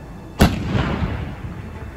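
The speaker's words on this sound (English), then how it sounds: "They are the next generation of howitzer launchers, and they are big beasts indeed." A British Army howitzer fires a single loud, close blast in snowy Lapland, a sharp broadband crack followed by a long rumbling roll of echo that slowly fades.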